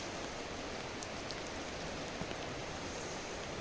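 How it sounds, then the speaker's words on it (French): Heavy rain falls continuously as a dense, steady hiss with faint scattered drops on surfaces, heard alone without talking. "Il pleut des cordes."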